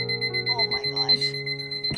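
Electronic alarm beeping steadily and loudly at home, a sustained tonal ringing with a pulsing pattern while people talk over it.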